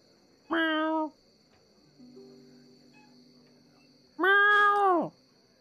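Two drawn-out meows, most likely a human voice imitating a cat, each about half a second long and separated by a quiet gap with a low hum.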